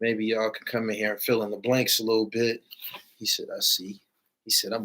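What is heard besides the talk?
None of the usual background noises is heard.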